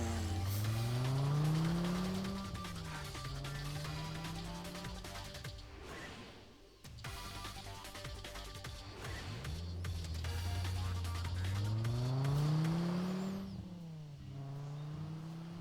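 A small car in the video game Deadly Premonition 2 drives with a loud, continuous engine that revs up and down in rising sweeps, with tire squeal and skidding noise and no talking.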